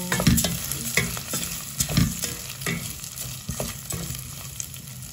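Onions and red rice being stir-fried in a pan, a continuous sizzle broken by repeated scraping and clacking strokes of a spatula, close and fairly loud, no voices.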